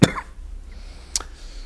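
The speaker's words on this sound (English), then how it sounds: "Pardon myself for the cough." A single sharp cough bursts out at the start, followed about a second later by a weaker second cough, both close and alone against a quiet room.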